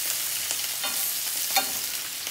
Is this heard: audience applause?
no